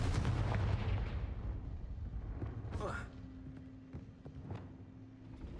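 Confringo fire-blast spell cast in Hogwarts Legacy: a heavy booming burst at the start, then a sharp whooshing blast midway, with fainter impacts trailing off and a voice talking over the game.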